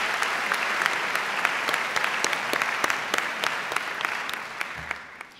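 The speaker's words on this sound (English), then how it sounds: "Please join me in giving yourselves a round of applause." A crowd at DePauw University's opening convocation applauds themselves, a steady, sustained roar of clapping with sharp individual claps standing out, fading toward the end.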